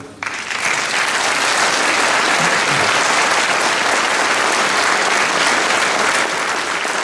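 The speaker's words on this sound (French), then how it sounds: "on peut les applaudir." Loud, sustained clapping from an audience at a municipal New Year's reception, starting abruptly and continuing as a thick, even roar of many hands for about seven seconds, with no voices over it.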